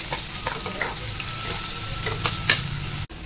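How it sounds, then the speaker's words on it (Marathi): Chopped onion and whole spices fry in hot oil, a steady loud sizzle running throughout with a few sharper crackles and a utensil clink near the end. "आता त्यामध्ये मी खडे मसाले, आता बारीक चिरून घेतलेला कांदा घालून घेते।"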